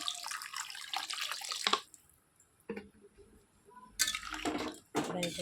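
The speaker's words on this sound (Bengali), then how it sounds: "এই যে পরিমাণ মতো জল দিয়ে দিলাম" Filtered water is poured into a cooking pot of elephant apple sour chutney. Close splashing pours come in a few separate bursts with short pauses between them, and a voice speaks in the gaps.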